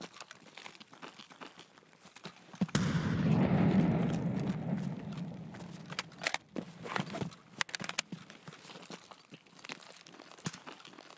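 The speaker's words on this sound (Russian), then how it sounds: "Гранату только кидаю." A grenade thrown in the video game Escape from Tarkov detonates in a single muffled blast that swells and rumbles for a few seconds, followed by scattered clicks and light handling noises, fairly quiet overall.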